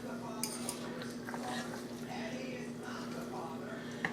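Pasta being stirred inside a pressure cooker pot, with scraping and clinking of a utensil against the metal sides continuing throughout, close and steady, beneath background noise and possible faint speech.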